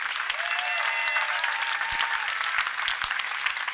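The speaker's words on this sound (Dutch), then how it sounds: "En een nog daverender applaus voor hun leiding Konrad van Alfen." Outdoor crowd at a Sinfonia Rotterdam concert on Noordplein applauds conductor Konrad van Alfen, a dense, steady roar of many hands clapping throughout, with a thin whistle or cheer drifting over it.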